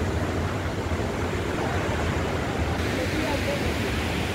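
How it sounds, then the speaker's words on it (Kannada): A steady, broadband rush of falling water, continuous and even throughout, like a waterfall pouring nearby where it flows into a river, near Dirang on the way to Tawang. "ಇಲ್ಲಿ ವಾಟರ್ ಫಾಲ್ಸ್ ಹೀಗೆ ಹರಿದು ಹೀಗೆ ನದಿ ಆಗ್ತದೆ ನೋಡಿ"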